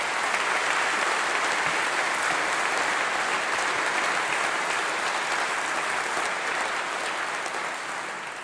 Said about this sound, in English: another huge round of applause for that great speech